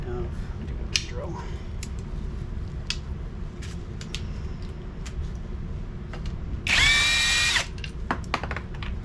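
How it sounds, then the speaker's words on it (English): A power drill whirs in one short burst of about a second, fairly close, while working on a 1996 XP engine with its starter being removed, over a steady low background hum. "I have a drill."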